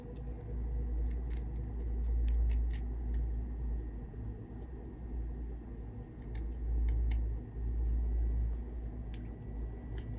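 Scissors snip at a straight skunk-style wig in a series of quick, crisp cuts close to the mic, some in pairs, over a steady low rumbling background.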